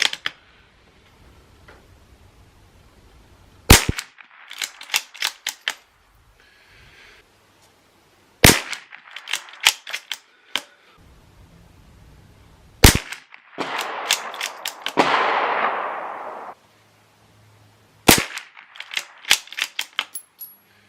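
Bergara B-14R .22LR rifle firing CCI Standard Velocity rounds from bags: five sharp, loud shots spaced a few seconds apart, each followed by quick clicking bolt cycling and brass handling.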